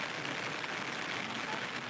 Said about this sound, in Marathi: हे बघा मित्रांनो इथे पाऊस पडत आहे तुम्ही बघू शकताय